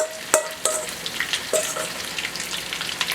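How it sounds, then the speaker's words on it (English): Chicken coated in baking soda and cornstarch fries in hot oil, giving a loud, close, steady sizzle and crackle broken by a few sharp clinks of a utensil against the pan, with no voices. "oil, I'm adding my chicken."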